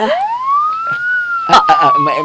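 A police siren wails, one long rising-then-sustained tone, loud and close, during a scene in a Filipino comedy series, with a sharp burst of shouting voices cutting in near the end.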